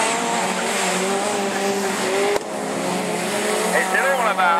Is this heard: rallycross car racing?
yes